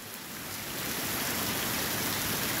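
Heavy October rain falls in Guajará-Mirim, Rondônia, a dense, steady hiss of downpour that builds slightly in the first second and then holds loud and unbroken.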